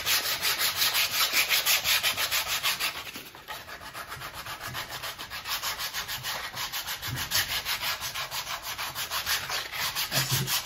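Steady rhythmic sanding strokes rub across a wooden Firebird model kit, a continuous close scraping with even back-and-forth pulses and a brief lighter stretch partway through.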